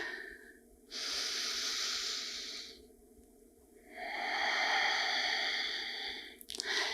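Deep, slow breathing during a yoga pose: two long, airy breaths, each lasting a couple of seconds, close and clear with quiet gaps between them and no talking.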